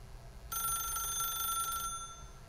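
A telephone rings in the video game The Stanley Parable, one quiet electronic ring lasting just over a second against a near-silent background.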